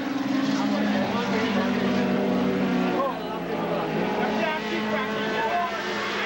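Classic race cars roar around the Wallerfield circuit in Trinidad, a loud steady engine drone with changing pitch as cars pass, under a commentator talking throughout.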